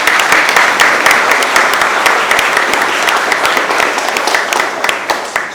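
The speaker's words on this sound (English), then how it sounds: "We'll give it a round of applause" Loud, close applause from a conference audience honoring emerging scholar awardees, a thick wash of clapping with sharp individual claps popping out, continuing strongly throughout.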